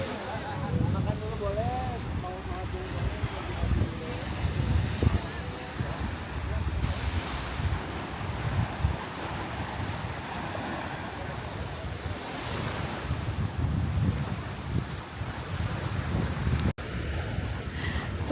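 Ocean waves and gusting wind at Bobi Beach on Karimun Jawa, a continuous loud wash of surf with rumbling wind buffeting the microphone throughout.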